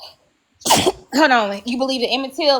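A single sharp, loud sneeze bursts out close by during a conversation, followed immediately by a person speaking.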